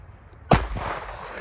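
A single sharp gunshot from a Bond Arms Stinger .22 LR derringer pistol, fired at a can target, cracks loudly out of a quiet background and then trails off into a brief ringing echo.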